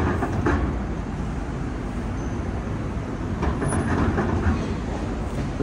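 Low, steady rumble of a train in motion, a constant droning roar with a few brief clanks and no clear talk.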